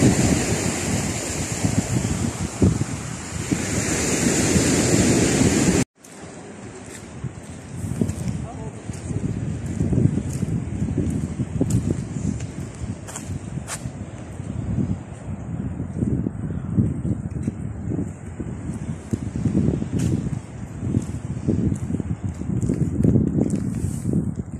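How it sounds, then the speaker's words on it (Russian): Strong evening wind in Gagra, Abkhazia, buffets and rumbles continuously against the microphone, gusting in waves with a brief cut near the start, loud and close throughout. "Такой ветер поднялся к вечеру."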